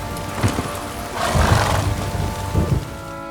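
Roach, Geralt's horse in the video game The Witcher III, gives a close, loud neigh with snorting and hoof sounds around it.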